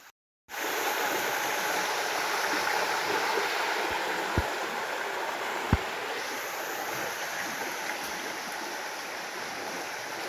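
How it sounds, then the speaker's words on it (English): Water rushing steadily over rocks at a stream crossing on a forest trail, a continuous broadband wash, close and loud, with a couple of faint knocks and no voices. "This looks like our first water crossing for the day"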